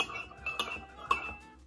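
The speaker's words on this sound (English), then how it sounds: "this is a huge fork to stir it" A large fork stirs a cocktail made with lemon and cinnamon, giving a few light metallic clinks against the glass over about two seconds, fairly quiet and close with no voices.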